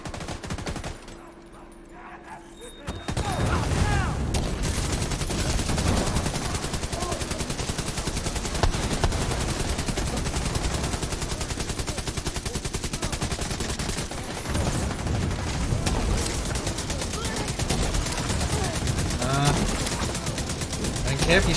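Sustained dense gunfire and machine-gun bursts from a shooter video game fill the mix almost nonstop after a quiet start, with a speaking voice heard over the barrage.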